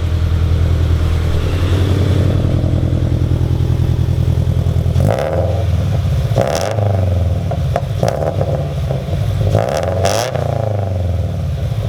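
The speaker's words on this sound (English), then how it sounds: "Watch, get out, I'll rev it, and then you'll see how you like it." A loud Infiniti G35 engine with an open-sounding full exhaust drones at idle, then revs sharply several times in quick bursts, roaring close by.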